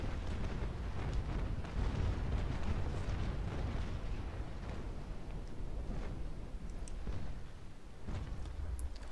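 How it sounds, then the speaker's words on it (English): Naval guns firing broadsides during a ship battle in a naval combat video game: a continuous, heavy roar of rumbling blasts and explosions blending together, loud and dense throughout with no talking. "Babet landed the proper broadside"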